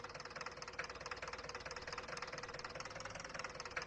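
A tractor engine in the video game Farming Simulator 19 idles with a rapid, even knocking chug, a continuous mechanical rumble heard alone at low volume without speech.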